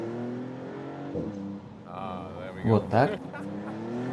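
Maserati MC Pura sports car engine heard from inside while driving, a steady low drone rising into a couple of sharp revving bursts, with someone speaking over it.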